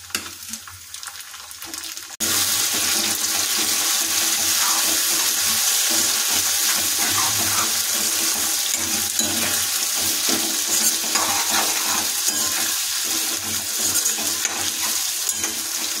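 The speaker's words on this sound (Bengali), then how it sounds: "টমেটোটা যোগ করে দিয়েছি।" Chopped tomato added to fried onions in a pan for a fish curry bursts into a loud, steady sizzle after a quieter start, crackling continuously for the rest of the time with occasional stirring scrapes.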